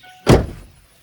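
Door of a Ford 6.0 Powerstroke truck shutting as someone climbs in, a single close, solid thunk with a short rumbling decay, no voices.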